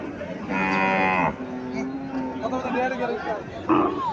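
A Haryana-breed cow lets out a long, loud moo, followed by another shorter low call, with people speaking nearby, in Chauddagram, Comilla.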